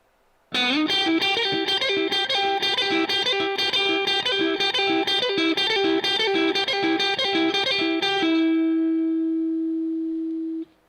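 An electric guitar with a distorted tone plays a complete lick: a steady run of bright picked notes in a repeating pattern, ending on a final note that rings out and slowly fades. No one speaks.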